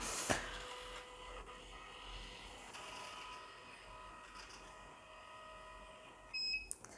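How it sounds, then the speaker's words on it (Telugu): A Fujikura 88s fusion splicing machine powers on with a steady electronic hum, soft mechanical clicks and whirring from its internal mechanism, and a short beep-like tone near the end. "సో ఇక్కడ స్ప్లైసింగ్ మిషన్ అయితే ఆన్ అయింది."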